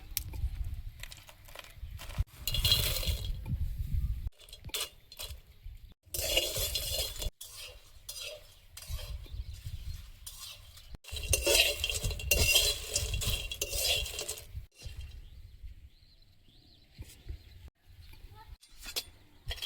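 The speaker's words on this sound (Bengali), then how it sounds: "এটা এখন শুকনো খোলায় ভেজে নেব, তারপরে মিক্সিতে গুঁড়ো করে নেব।" Dried rice-flour pieces are dry-roasted in a pan, stirred with a utensil that scrapes and clinks in irregular bursts separated by short pauses, close and moderately loud.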